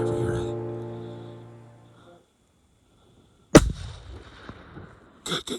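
A single loud, sharp rifle shot on a late-season elk hunt cracks out suddenly after a quiet pause and decays with a rolling echo, preceded by a fading tone and followed by a short burst of noise near the end.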